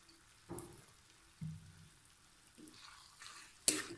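Pasta being tossed with tomato sauce and soy sauce in a pan for spicy masala pasta: soft, scattered stirring scrapes and light sizzle bursts, fairly quiet, with one sharper knock near the end and no talking.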